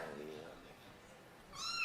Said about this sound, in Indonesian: kucing kan kucing kan? Dengerin suaranya.